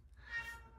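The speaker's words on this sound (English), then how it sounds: "That's my cat whining in the background" A cat gives one drawn-out, whiny meow, soft and somewhat distant, in an otherwise quiet room.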